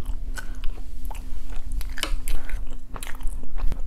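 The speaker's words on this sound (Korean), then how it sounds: "오늘은 꼭꼭 씹어 먹어야 돼요." Crunchy chewing of spicy Buldak fried noodles with takoyaki, close and steady, with repeated bites and mouth sounds over a low background hum and no talking.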